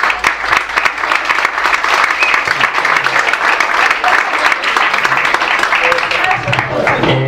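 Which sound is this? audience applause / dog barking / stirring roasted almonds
audience applause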